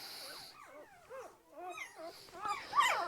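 A light apricot poodle puppy whimpers close by in a series of thin, wavering high-pitched whines and squeaks, some rising and falling, ending in a sharper yip, over a quiet background.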